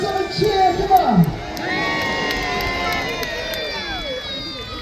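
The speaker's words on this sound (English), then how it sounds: "Let's have a cheer, come on!" A large crowd cheers and whoops at the Peasholm Park naval battle in Scarborough, a loud burst of voices that settles into a sustained roar of cheering.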